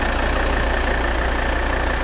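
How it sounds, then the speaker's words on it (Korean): A Volvo XC70 D5 diesel engine idles steadily and evenly, with a low rumbling tone and constant drone, close by and unbroken. "엔진 소리 일정합니다"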